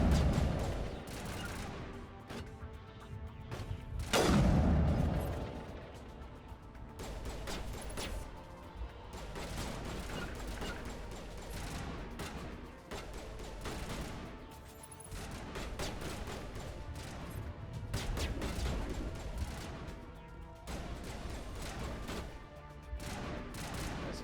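Gunfire from a heavy-recoil gun in Mass Effect Legendary Edition, with repeated shots and rapid bursts over about twenty-four seconds, one especially loud booming blast early on, and continuous battle noise in between.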